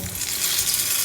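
Banana fritters frying in oil over medium heat, a steady close sizzle and crackle that fills the whole clip with no voices.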